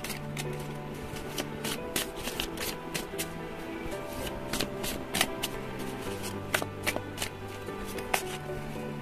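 Tarot cards being shuffled by hand in repeated quick riffles and flicks, close and crisp, with a low voice murmuring faintly underneath.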